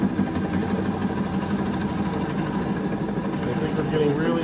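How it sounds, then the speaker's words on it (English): Wood lathe turning a piece of black palm into zebra wood, a continuous close grinding whir with a rough cutting texture, mixed with a tonal hum. "It sounds like we're going into the zebra wood now."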